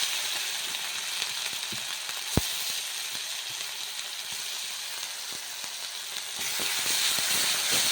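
Ginger, garlic and green chili paste fries in hot oil with mustard seeds and cumin, a soft continuous sizzle with a sharp pop partway through, steady and close.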